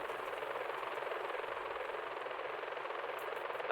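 A helicopter flies in GTA 5, its rotor and engine making a steady, dense whooshing drone that holds evenly throughout with no voices.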